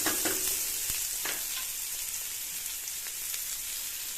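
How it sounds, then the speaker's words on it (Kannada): Onions with mustard seeds and cumin frying in oil in a pan, giving a steady close hiss of sizzling with a few sharp pops and crackles and faint stirring scrapes, no talk. "ಈರುಳ್ಳಿ ಸ್ವಲ್ಪ ಕೆಂಪಗಾಗೋ ತನಕ ಫ್ರೈ ಮಾಡಿ."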